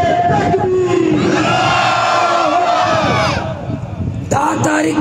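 A large crowd at a political rally in Pasni roars a loud, sustained chant in unison, massed voices surging together before briefly dipping and rising again.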